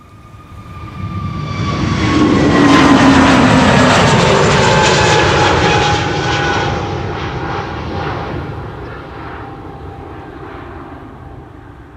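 A Transavia jet airliner takes off at Schiphol in windy weather, its engine roar swelling over the first few seconds to a loud peak with whining tones, then easing off as it climbs away.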